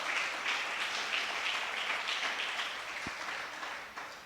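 A church congregation applauds together, a dense, steady wash of clapping that holds for several seconds before tapering off slightly at the end.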